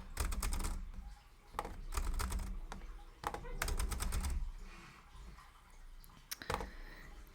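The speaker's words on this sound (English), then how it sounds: "And then you just type whatever you want." Keystrokes on a computer keyboard come in quick bursts of light clicks with short pauses between, close and fairly soft, while someone talks quietly in the background.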